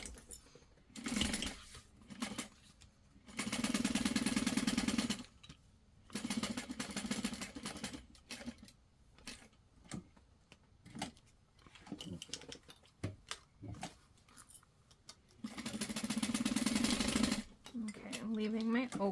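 A sewing machine stitches a seam on a LindSport mini backpack being enlarged to full size, running in three steady mechanical bursts with a person talking in the pauses between them.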